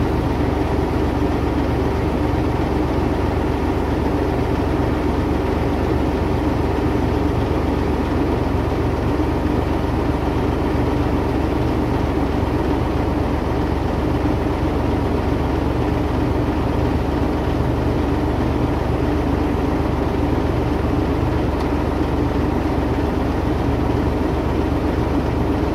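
A truck's engine idles steadily for a long stretch while its air brake system builds pressure, a constant low, heavy drone with faint hissing texture and no voices.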